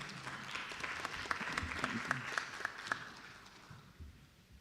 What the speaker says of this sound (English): please, a round of applause for our speakers.